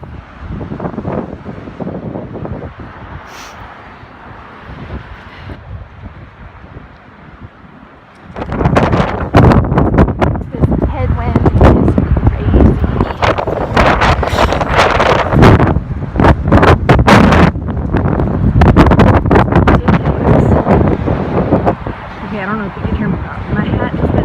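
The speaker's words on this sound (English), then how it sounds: "wind is just crazy" Strong wind buffets the microphone along the Galveston seawall, a loud, constant roaring rush that jumps in strength partway through and stays heavy, with a voice talking faintly beneath it early on.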